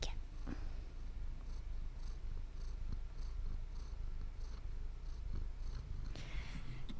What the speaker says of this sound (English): a baby cat